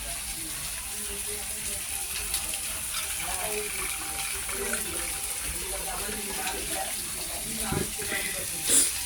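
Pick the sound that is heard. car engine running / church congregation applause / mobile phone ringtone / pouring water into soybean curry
pouring water into soybean curry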